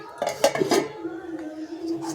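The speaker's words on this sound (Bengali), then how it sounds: "এটা আমি ঢাকা দিয়ে দেবো" A few quick metallic clanks as a lid is set onto a cooking pot, followed by a low steady hum.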